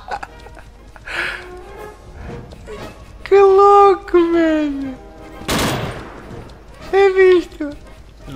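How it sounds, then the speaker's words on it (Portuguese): Machine gun fire from a dinosaur carrying a gun on its back in the PC game Dino D-Day: loud bursts mixed with roaring, harmonic game sounds and a sharp blast, all under excited talk. "Um dinossauro com uma metralha nas costas."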